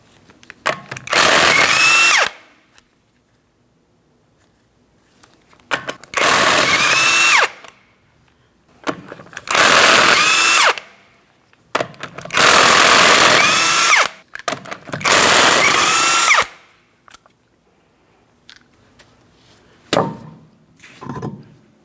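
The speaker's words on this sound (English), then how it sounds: "we're going to remove all 5 of our 19mm lug nuts and remove the wheel" A power tool zips off five 19mm lug nuts from the rear wheel of a 2004-2008 Pontiac Grand Prix, five loud whirring bursts of about two seconds each, separated by quiet pauses.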